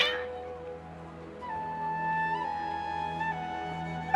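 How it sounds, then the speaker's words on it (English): Agitated cats meowing in Genshin Impact, a few drawn-out tonal cries rising and falling over a soft game background, fairly close and unaccompanied by talk. "Your cats seem pretty worked up"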